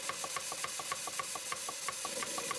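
A Southworth 12 inch steam pump runs under repair, pumping water through piping from a bottle and leaking too much exhaust steam, with a steady rhythmic knocking chuff of about four beats per second over continuous hiss.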